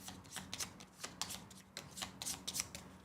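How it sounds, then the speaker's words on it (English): Playing cards for the board game Dragon Eclipse being shuffled by hand, a close series of quick riffling bursts and soft taps in an uneven rhythm, fairly quiet and with no talk. "you shuffle them."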